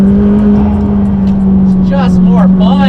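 McLaren 600LT engine droning loudly from inside the car with a steady hum and a few sharp rising bursts near the end, someone talking excitedly over it.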